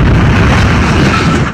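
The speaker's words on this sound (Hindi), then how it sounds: "हादसे के बाद जोरदार धमाका हुआ, जिसकी आवाज दूर दूर तक सुनी गई" A loud, rumbling explosion after a plane crash into a residential area in the United States roars at close range, a dense broadband blast that sustains briefly and then trails off.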